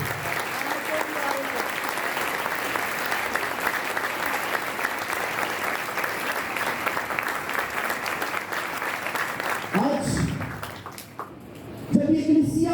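A church congregation at a Pentecost service claps steadily for about ten seconds, then the applause fades out and a voice speaks briefly in Urdu before the clapping swells again.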